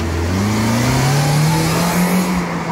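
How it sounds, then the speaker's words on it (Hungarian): A 2017 Lada Vesta with a 1.6 petrol engine pulls away from a standstill with traction control switched off. Its loud, close engine note climbs steadily in pitch under a constant roar. "nézzük meg akkor, hogy indul el ez a"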